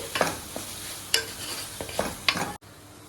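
Tomato rice masala is stirred in a pressure cooker, a spoon scraping and clinking against the metal in irregular strokes over a soft sizzle, then stopping abruptly.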